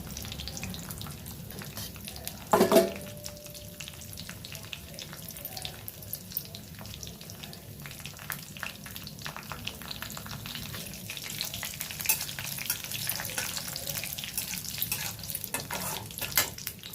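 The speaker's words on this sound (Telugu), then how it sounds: "జీలకర్ర ఎండుమిర్చి వేగిపోయింది." Cumin seeds and dried red chillies frying in a pan give a faint, continuous crackling sizzle, with a single sharp clink early on and light stirring sounds throughout.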